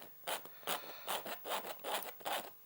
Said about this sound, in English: I've got ordinary palette knife here. I'm going to scrape back through